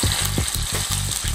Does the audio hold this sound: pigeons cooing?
no